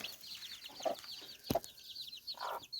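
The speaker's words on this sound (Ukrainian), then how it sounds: "Також там є маленькі курчата." Chickens cluck and chatter softly amid high peeping chicks, with a louder cluck near the middle and steady farmyard background.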